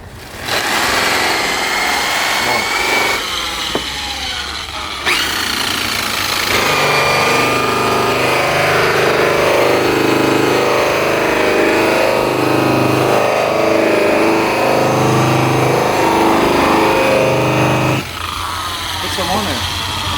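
A 10-inch buffing wheel running at about 1800 RPM with black compound on Airstream aluminum, producing a loud, steady motor whine and polishing rasp that runs almost unbroken, with a short break near the start and a drop near the end.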